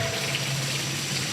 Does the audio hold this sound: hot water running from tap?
yes